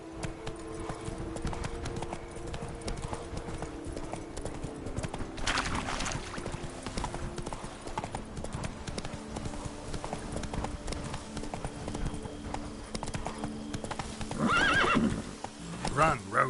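Video game horse Roach galloping, a steady rhythmic clip-clop of hooves with a short whinny near the end, over background game sounds.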